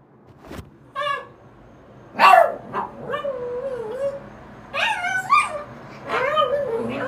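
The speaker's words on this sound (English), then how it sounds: "The dog is literally talking right now." A dog whimpers and yips close by in a series of high, whiny, pitch-bending cries and short yelps, coming in several bursts over a few seconds with quiet gaps between them.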